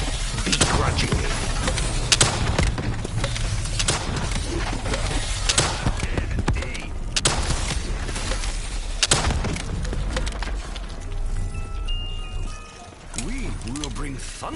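Call of Duty Zombies on the Revelations map: dense bursts of gunfire and booming explosions roll on continuously, loud and busy, with a character's voice talking over the battle noise.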